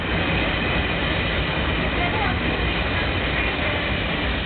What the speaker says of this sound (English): The train? Nice train, isn't it?